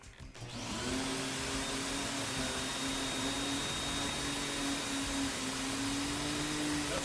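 A Riccar central vacuum cleaner runs steadily at close range with a constant whooshing roar and a sustained motor whine, starting just after the opening second and holding unchanged to the end.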